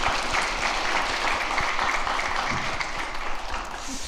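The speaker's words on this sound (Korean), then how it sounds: "우리 박수로 격려하겠습니다." A church congregation breaks into warm applause during a retirement service, steady dense clapping that tapers slightly toward the end.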